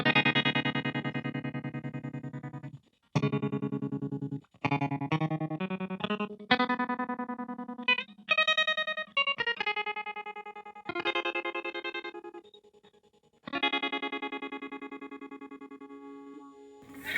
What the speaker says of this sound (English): And some tremolo.